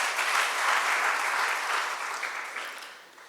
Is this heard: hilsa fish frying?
no